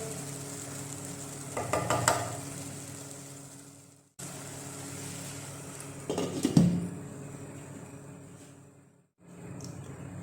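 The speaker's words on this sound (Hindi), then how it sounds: "हाफ कप पानी ऐड करने के बाद हम इसे तकरीबन 5 मिनट के लिए लो फ्लेम पे ढक के पका लेंगे" A pan of chicken jalfrezi simmers covered on a low flame with a steady soft sizzle and bubbling hiss, broken by a couple of brief clinks and rattles, then a short pause before the sizzling resumes.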